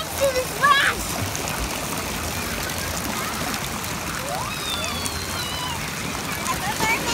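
Water at a Six Flags water park slide rushes and splashes continuously and loudly, with a voice briefly heard at the start and faint distant voices under the water.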